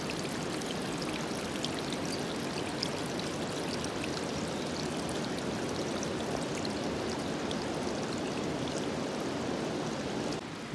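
Clear natural spring water in a wild Olympic State Park setting flows in a steady, close babble and trickle, loud and unbroken, with no voices.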